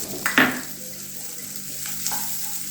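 An egg dish frying in a pan is stirred, with a couple of sharp utensil scrapes near the start and then a steady close sizzle with faint stirring sounds.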